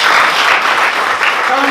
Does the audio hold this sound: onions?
no